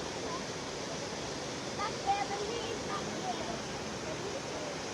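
A river at Bukit Cendono rushes in a steady, broadband wash that fills the whole clip at an even level and sounds close by, with no voices breaking through.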